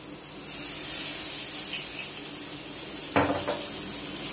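Dark soy sauce poured into a pan of noodles, giving a steady close sizzle with a short, sharper hiss burst partway through and no voices.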